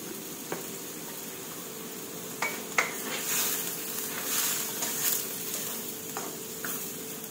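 Japanese cucumber and egg being stir-fried in a pan, with a steady sizzle of frying and a few sharp clacks and scrapes of a utensil against the pan, close and clear, with no talk.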